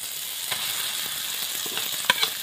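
Grated potato sautéed with salt, turmeric and chili powder in a pan, a soft steady sizzle with a few brief metallic scrapes and clicks near the end, close and without talk.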